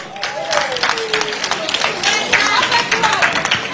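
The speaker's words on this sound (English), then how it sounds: "Let us clap for Uhuru." Crowd applause at an outdoor political gathering in Maracha District, a dense steady clapping wash with scattered shouts and voices mixed in throughout.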